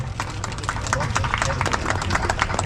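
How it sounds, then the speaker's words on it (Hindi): An audience at an ex-servicemen's Settlers Day celebration in a mini stadium claps for prize winners. The applause is a steady, dense spread of hands clapping under an announcer's voice. "जोरदार तालियां दीजिए।"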